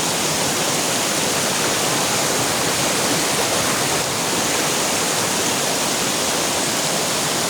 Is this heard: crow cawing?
no